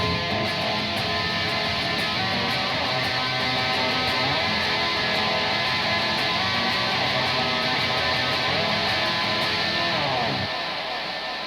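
A lush guitar chord in a custom open tuning, played in a full record-style context, rings as a dense, loud, continuous wash for about ten seconds before thinning slightly and trailing off.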